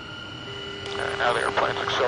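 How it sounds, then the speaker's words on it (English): Jet engines on a flight simulator roar and build steadily as the aircraft accelerates for takeoff with afterburners lit, a continuous loud rumble with someone talking over it. "Now the airplane's accelerating out real well, approaching 350."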